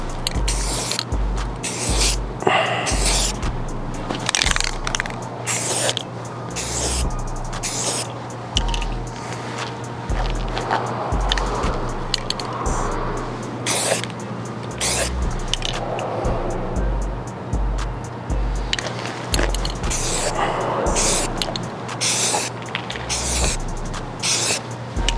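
Rattle can spray paint hissing onto a rifle in repeated short bursts, steady near spraying with a low rhythmic thumping underneath.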